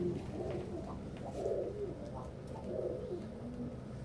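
Pigeons coo softly and repeatedly in low, throaty phrases, a few bursts close together over steady background noise.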